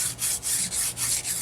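A smooth file rasps back and forth along the bar of a Homelite XL-2 chainsaw, about six close, even strokes in a regular rhythm with brief pauses at each turn.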